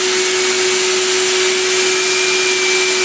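A turbocharger spools up while inflating a glove, producing a steady, loud, high-pitched whine with a constant tone and broadband rushing air throughout.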